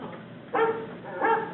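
A dog named Rover gives two short barks about three quarters of a second apart, moderately loud and close, with a steady background hiss and no talking.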